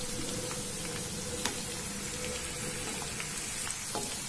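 Fenugreek seeds roast in oil in a pan for homemade ayurvedic hair oil, giving a faint, steady sizzling hiss with a few tiny pops scattered throughout.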